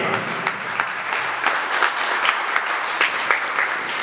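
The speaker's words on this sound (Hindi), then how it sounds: "जय हो, जोरदार तालियां।" Audience applause at a Hindu devotional discourse on the new year, a dense, steady clapping from a crowd that holds at an even level throughout, with a few louder bursts and no talk over it.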